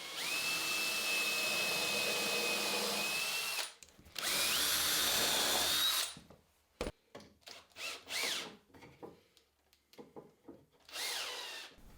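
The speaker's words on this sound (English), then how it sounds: "mark out where the holes go and get those drilled" A power drill boring holes through plywood, close and fairly quiet: two sustained whining runs with steady pitch, then shorter intermittent bursts and scraping as the bit is worked and withdrawn.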